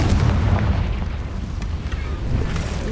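Repeated Confringo spell blasts from Hogwarts Legacy, deep booming explosions rolling continuously with scattered sharp pops, loud and dense throughout.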